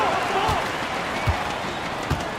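A basketball arena crowd in NBA 2K26 cheers and applauds after a dunk, a dense sustained roar with a few thumps, while a commentator's voice talks over it.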